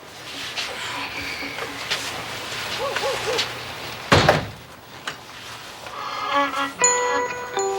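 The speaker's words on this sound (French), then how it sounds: "Avant tout reste dehors, mais ferme la porte." A door being shut indoors, a single loud thump landing midway through a stretch of room noise and muffled voices, followed by faint clinking and rattling.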